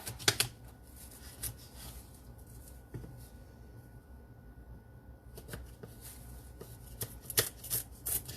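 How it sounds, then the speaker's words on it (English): A knife cuts through sweet potatoes on a cutting board, leaving scattered faint thunks and chops with quiet pauses between them, close but soft. "Cutting sweet potatoes, I usually cut them and boil them."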